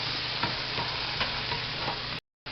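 Shrimp stir-frying in a pan for a noodle stir fry sizzle in a steady, close hiss with faint rhythmic scraping, cut off briefly near the end.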